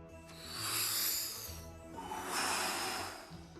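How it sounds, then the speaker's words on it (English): One deep breath, heard close as two long, airy swells: a slow inhale followed by an exhale, with no talking. "Step 1, breathe."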